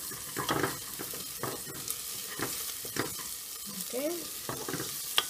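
About two tablespoons of minced garlic sizzle in a pan with caramelized onion for coconut curry lentils, with a steady fry, repeated stirring scrapes, and a brief spoken word.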